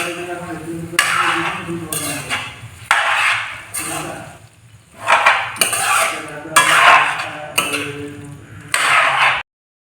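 A metal spoon scrapes and clanks repeatedly against a pot while mutton is mixed with ginger garlic paste, loud rhythmic bursts of stirring with short pauses between.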